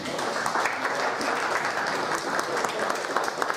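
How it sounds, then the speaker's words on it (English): Applause for a speaker at a lightning talk during the Balkan Ruby 2018 conference: a crowd claps steadily and densely throughout, fairly distant and even in level. "Some applause for Gianata."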